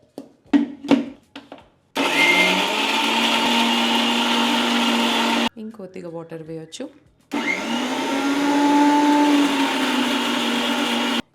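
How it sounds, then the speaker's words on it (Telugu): A kitchen mixer grinder blending garlic with a little water into paste. It gives a loud, steady whirring roar in two long runs with a short break between them, a few knocks at the start, and someone speaking briefly. "మిక్సీ జార్లో తీసేసుకుంటున్నాను. కొద్దిగా వాటర్ వేసుకొని దీన్ని పేస్ట్ చేసేసుకోవాలి."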